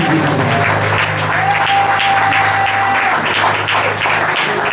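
A church congregation applauds loudly and steadily for Jesus Christ, a dense wash of clapping with crowd noise and a sustained organ or keyboard tone underneath.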